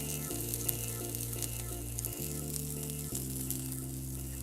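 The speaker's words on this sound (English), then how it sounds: "We're gonna just sear that off for a couple minutes." Part-cooked yellow beans searing in a hot pan give a steady, even sizzle that holds throughout, quiet and close, under a sustained low tonal hum that shifts pitch twice.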